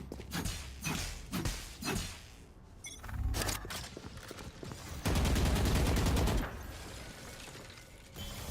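Gunfire during a fight in the video game Valorant, with scattered single shots followed by a sustained automatic burst, loud and dense against a busy game soundscape, and no talk.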